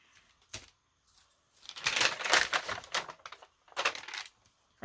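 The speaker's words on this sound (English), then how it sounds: "I'm going to do a little bit of trimming, I think." Cardstock is trimmed in close, crisp bursts of rapid cutting and clicking, separated by short pauses, with no talking.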